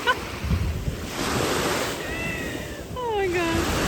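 Cold sea surf in Mallorca in April, waves washing and rushing close by with heavy wind buffeting the microphone, plus a couple of short vocal exclamations over the water.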